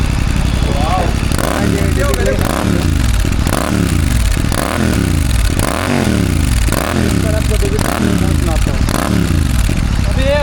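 GT 650 motorcycle with a Red Rooster aftermarket exhaust and the dB killer removed, revved in loud, close, rhythmic blips that rise and fall about every second, while someone talks over it.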